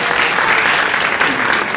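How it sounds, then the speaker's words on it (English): A few people clap during a panel session as a speaker is introduced, a steady patter of hands lasting about two seconds at moderate loudness. "three people are clapping, Terrell"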